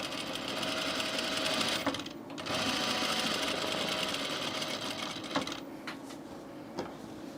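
A sewing machine runs steadily, stitching a flat felled seam on a shirt. It makes a close, continuous rapid whir that pauses briefly and then resumes, with a few clicks near the end.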